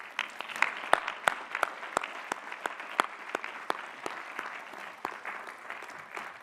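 Sustained applause from an audience at a graduate commencement and doctoral hooding ceremony, dense clapping with sharper individual claps standing out, steady and fairly distant throughout with no talking.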